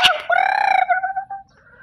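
A desi rooster gives a single loud, close crow-like call that trails off, followed by a softer short cluck.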